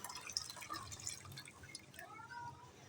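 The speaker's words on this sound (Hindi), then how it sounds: "अब आपने लेनी है एक छन्नी और दूध को आपने छान लेना है" Milk flavored with cardamom and fennel trickles and drips through a sieve, a quiet, close pattering of liquid with no talking.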